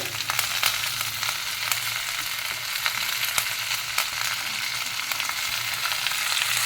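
Dried red chillies, including a Kashmiri chilli, and onions sautéing in a pan for hotel-style kara chutney give a steady, close, broadband sizzle with scattered crackles, continuous and without voices.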